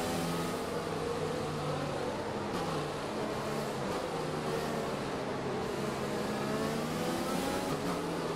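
A field of Formula 1 race cars in F1 2020 accelerates after a safety car period, making a steady, dense engine whine and drone that holds loud and unbroken throughout.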